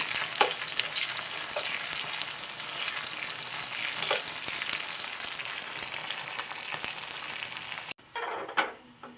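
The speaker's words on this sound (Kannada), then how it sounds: "ಇದು ಆಯಿಲಲ್ಲೇ ಚೆನ್ನಾಗಿ ಫ್ರೈ ಆಗಬೇಕು ಕರಿಬೇವು ಸೇರಿಸ್ಕೊತಾ ಇದ್ದೀನಿ" Loud, continuous sizzling of curry leaves frying in hot oil for a sambar tempering, crackling throughout, then it drops suddenly and a brief stir or scrape follows.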